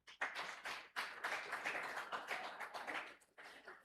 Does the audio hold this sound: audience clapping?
yes